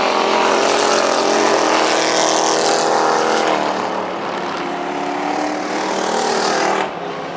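Stock cars racing around South Texas Speedway, a loud sustained roar of engines from several cars passing close, pitch shifting as they go by, with no talk.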